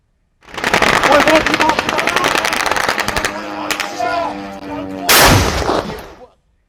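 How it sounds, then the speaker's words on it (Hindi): A drone slams into a convoy of trucks parked on a road. Dense crackling bursts like gunfire run throughout, then a loud broadband explosion blast comes near the end, with a voice talking over it. "एक ड्रोन बिजली की रफ्तार से आया और सड़क पर खड़े ट्रकों के एक काफिले पर टकरा गया, फट पड़ा।"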